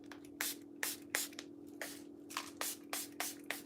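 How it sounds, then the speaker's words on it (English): Lionsgate Portal Spray from Arabian Conjure is spritzed in about ten quick, sharp hissing bursts in an uneven rhythm, close to the microphone over a faint steady hum. "This is Lionsgate Portal Spray from Arabian Conjure."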